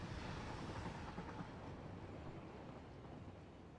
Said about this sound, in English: And here comes the iron train.